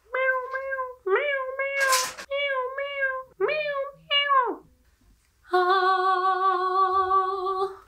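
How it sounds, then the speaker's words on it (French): A small cat gives a run of short, high, rising meows in quick succession, then a brief pause and one long, drawn-out wailing meow, close and clear. "Regardez-moi ce petit chat."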